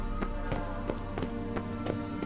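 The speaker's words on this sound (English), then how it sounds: "Kelpie. Another horse." A horse named Kelpie galloping in The Witcher 3, steady rhythmic hoofbeats at a brisk pace over a constant low background hum, about six strikes, moderately loud and alone.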